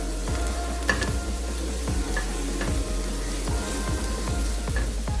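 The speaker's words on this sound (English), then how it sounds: "We are mixing it as quickly as possible so that it doesn't dry on one side" Suya sauce with curry powder and thyme being stirred quickly in a pot, a continuous close sizzle with repeated rhythmic spoon scrapes and scattered light pops, no voices.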